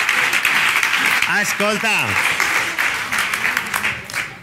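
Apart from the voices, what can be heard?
audience applause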